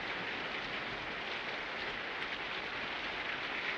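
Steady rain falls in a Western action film scene, a faint, even hiss of drops with no breaks and no voices.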